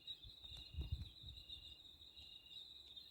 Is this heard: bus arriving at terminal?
no